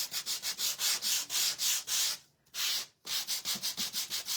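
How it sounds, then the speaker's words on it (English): A wooden craft bird is hand-sanded: quick, regular back-and-forth rasping strokes, close and steady, with two brief pauses midway before the rhythm resumes. "So we're gonna sand it down a little."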